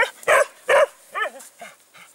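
A playful dog gives two sharp barks followed by softer whimpering whines, close and clear with no talk.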